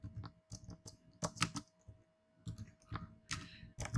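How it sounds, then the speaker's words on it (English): Rapid typing on a computer keyboard during a Django coding session, heard up close as irregular bursts of crisp key clicks with short pauses between them. "Oh Clinton, what's wrong with your typing?"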